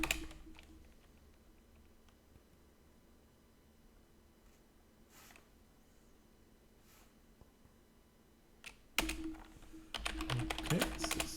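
Someone types a command on a computer keyboard: quiet, scattered keystrokes and clicks, then a quicker run of taps near the end, with no one talking.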